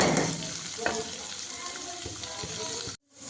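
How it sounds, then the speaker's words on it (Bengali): Chopped onion fries in a pan with a loud, steady sizzle and occasional stirring scrapes, continuing evenly before cutting off abruptly near the end. "কিছুটা পেঁয়াজ আমি কাঁচা মাখবো আর কিছুটা একটু ভাজা করে দেব"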